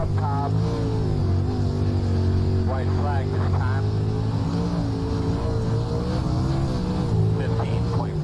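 Simulated dirt late model race car engine, a World of Outlaws Late Model at Charlotte Dirt in iRacing, droning steadily on throttle with the pitch rising and falling, while someone talks over it.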